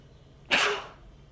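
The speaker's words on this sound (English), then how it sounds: "I did 10 sneezes in like" A single loud, close sneeze bursts out sharply and then tails off, one of a quick run of repeated sneezes in a sneezing challenge, with no talking.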